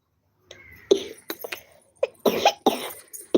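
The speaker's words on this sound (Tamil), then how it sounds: "இந்த இருமல் வேற வரட்டு இருமல் வந்துக்கிட்டு" A series of short, dry coughs in uneven bursts, close up, with brief quiet gaps between the hacks.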